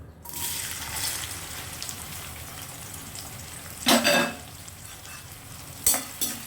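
Onions fry in hot oil with a close, steady sizzle, broken by two louder bursts of stirring or spattering about four and six seconds in.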